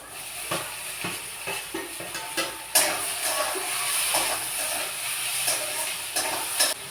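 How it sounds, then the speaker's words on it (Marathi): Chopped onion and tomatoes roasting in a pan give a steady hissing sizzle, punctuated by light scraping and clinks of a spatula stirring, close and fairly loud with no talk. "चांगला कांदा भाजल्यानंतर टॉमॅटो पण भाजून घ्यायचे"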